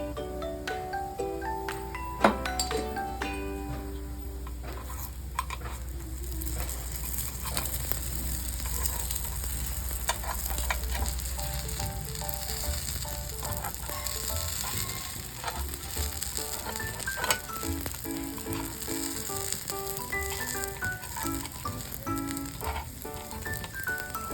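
Gunta ponganalu batter sizzling and frying in a covered pan, a steady close hiss running throughout with soft scraping as the pieces are turned, and faint background music layered underneath.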